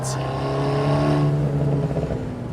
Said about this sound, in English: Am I going to go full throttle? Oh my God, I'm full throttle.